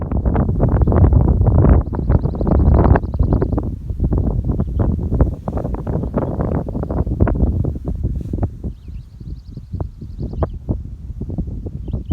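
Wind gusting across a mountain trail on Vermont's Long Trail near Bromley, a loud, continuous buffeting roar of microphone wind noise with rustling bursts throughout.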